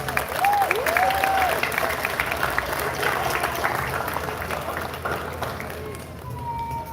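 An audience applauds parents at a youth steelpan festival, sustained clapping mixed with crowd cheers and whistles, loud at first and gradually tapering off.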